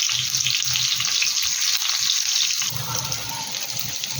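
Chicken kebab patties fry in oil in a very hot pan, giving a steady close crackling sizzle with soft low knocks and scraping underneath, running throughout without any voices.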